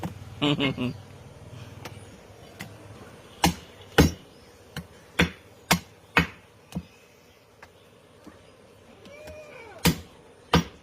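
Sharp, loud chops of a cleaver through goat shank bones, struck one at a time at irregular intervals with a brief clatter early on, while someone speaks intermittently nearby.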